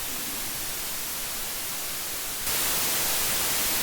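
Steady hiss of white noise generated in synthesizer software, holding constant and then jumping noticeably louder partway through, with no voices.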